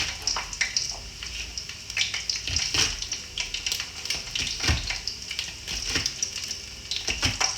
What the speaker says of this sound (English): fry some chicken skin. You hear it in the background?